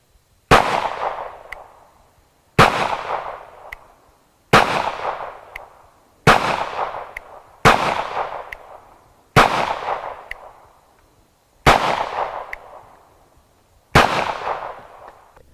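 A Walther PPS M1 pistol fires eight loud, sharp shots at slow, even intervals of about two seconds, each crack followed by a ringing echo that fades before the next, with no talking.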